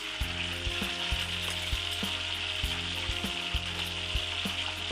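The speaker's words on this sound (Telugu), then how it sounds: "తాలింపు పెడుతున్నాను ఈ ఆయిల్లోనే" Tempering spices sizzle and crackle steadily in hot oil for a drumstick chutney, with broadband frying hiss throughout and periodic low thumps and clinks of a utensil stirring the pan.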